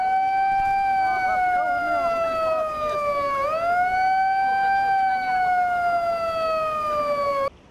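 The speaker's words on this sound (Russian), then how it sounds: "Підвиття сирен, гучні вигуки та гавкіт собак" A loud, wailing emergency siren sweeps up and down in pitch continuously at a protest at Dnipropetrovsk city hall, dominating the scene with steady traffic rumble beneath.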